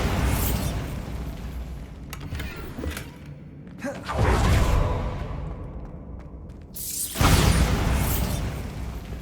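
A Bombarda explosion spell going off in Hogwarts Legacy: a few loud, broad booming bursts with whooshing tails, separated by brief dips, heavy and close throughout.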